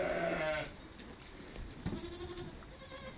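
A mother goat gives a loud, wavering bleat as her newborn kid is put back with her, followed by a fainter, shorter cry a moment later. The barn setting is otherwise quiet, on a drizzly spring day.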